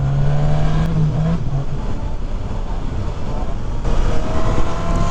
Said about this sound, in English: I like the sound of this stock exhaust.